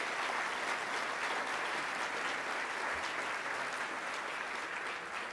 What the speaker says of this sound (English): join me in a round of applause for Bryce